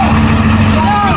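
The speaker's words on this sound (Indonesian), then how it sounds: "Ini ada mobil kontainer mau ditarik" A container box truck about to be towed gives off a loud, close, steady low diesel drone with a constant hum throughout.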